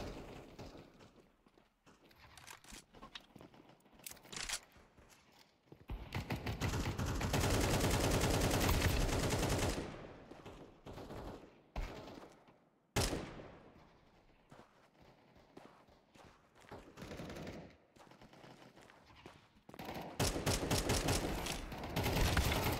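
AK rifle fire in Counter Strike 2, with sharp rapid bursts and sustained loud volleys broken by short pauses and scattered single shots across the round.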